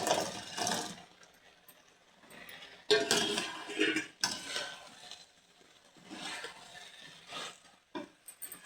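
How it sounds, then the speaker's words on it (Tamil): A spoon scrapes and clinks in a pan as fried soya chips are tossed into Manchurian sauce, giving intermittent stirring bursts with soft metallic knocks and pauses, close and moderately quiet. "இப்போது நம்ம எண்ணெயில் ஃப்ரை பண்ணி எடுத்து வச்ச சோயா சிப்ஸை இதில் போட்டு மிக்ஸ்"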